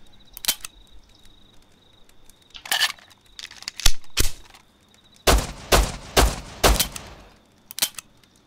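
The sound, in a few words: gunfire in video game Rust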